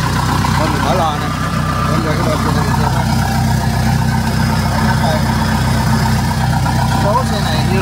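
A Kubota DC70 combine harvester from 2020, with its engine compartment opened up, runs with a steady, loud mechanical drone throughout while someone talks over it.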